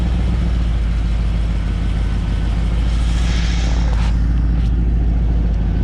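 A 1989 IROC with an aftermarket exhaust idles steadily, giving a deep continuous rumble heard close from underneath the car, with no talking.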